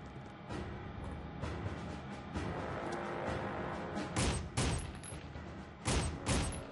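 Submachine gun fire in Soldier of Fortune rattles steadily, punctuated by several louder, heavier shots near the end, with no talking.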